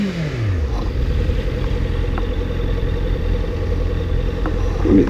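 A 2014 Honda CB650F inline-four motorcycle engine revving close by, dropping into a steady idle hum with a faint ticking clatter and a small blip of throttle near the end.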